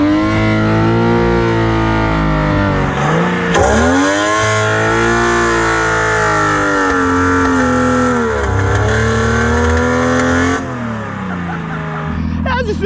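A Ford Barra engine on NOS testing revs hard and loud, its pitch sweeping up and down through repeated climbs and drops, with a short pause before winding up again while people talk over it.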